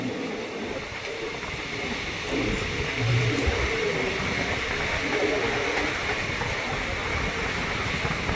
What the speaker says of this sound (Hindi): अरे ये मालगाड़ी है